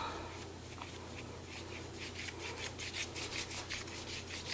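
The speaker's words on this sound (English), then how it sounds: "I'm kind of like scrubbing the rest of it off onto my canvas" Mixed media paint being scrubbed onto a canvas, heard as soft, close rubbing and scratchy strokes that turn into quicker rhythmic scrubbing in the second half, quiet and without speech.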